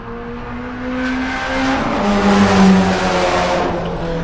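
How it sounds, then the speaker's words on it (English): A Subaru race car drives hard through the S-bend corners at Buttonwillow during a time-attack final, its engine note rising and falling as it passes from mid-distance, loud and steady with no one talking. "you can really see the Subaru moving through the S's"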